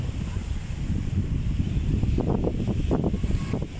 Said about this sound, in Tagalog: dito sa tabing dagat, mahangin